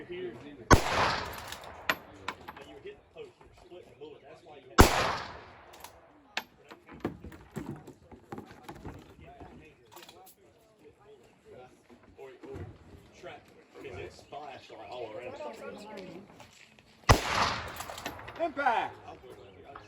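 Three sharp, loud rifle shots ring out at a PRS sniper regional match, the first two about four seconds apart and the third well after. Someone talks between and around the shots over outdoor background noise.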